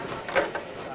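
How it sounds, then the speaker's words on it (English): Steam hissing from a rice roll steamer as the rice rolls cook for about a minute, a steady broadband hiss with a brief louder burst partway through, close by. "And then we steam the rice roll 1 minute,"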